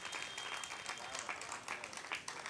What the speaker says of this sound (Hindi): मेरे सम्मान में भी आप थोड़ी सी ताली बजा दें